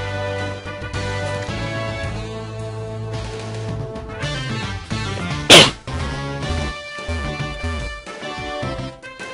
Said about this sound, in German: Entschuldigung, müssen niesen.